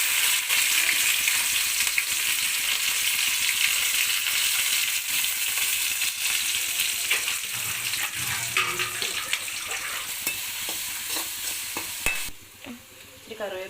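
Ginger and garlic frying in hot coconut oil after mustard seeds have popped, a steady loud sizzle with stirring scrapes throughout, easing off near the end.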